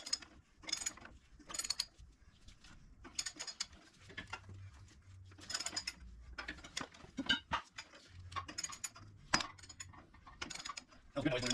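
Metallic clanks, creaks and ratcheting clicks as a part is pressed out of a Dana 44 front axle in a shop press, irregular bursts with a low grinding groan, close and moderately quiet.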